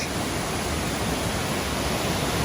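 River cascades near Cascade d'Ars in the foggy French Pyrenees make a steady, dense rushing roar, close and unbroken, with no voices.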